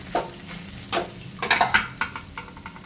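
Ridge gourd peels fry in a pan for chutney, a low background sizzle broken by several sharp scraping and clinking stirs of a spoon against the pan.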